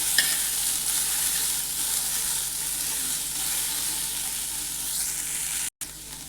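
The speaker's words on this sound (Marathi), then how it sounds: "कांदा पण अशाच पद्धतीने आपल्याला गोल्डन ब्राऊन रंग येईपर्यंत भाजून घ्यायचा आहे" Onion fries in oil in a pan until golden brown, giving a dense, continuous loud sizzle with faint stirring, cut by a brief dropout near the end.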